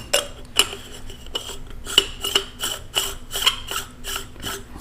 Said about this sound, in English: This, of course, is going to screw on the bottom.